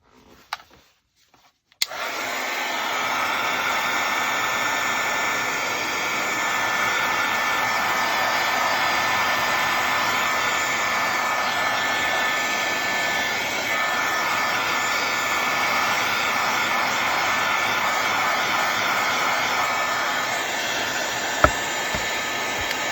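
Hair dryer blowing air to dry paint on a junk journal page, a loud steady roaring whoosh that starts abruptly after a few quiet clicks and runs unbroken to the end.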